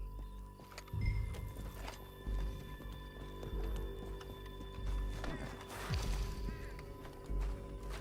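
A horse gallops in Red Dead Redemption 2 as the rider chases others toward a canyon, with rhythmic hoofbeat thuds in bursts over quiet game ambience.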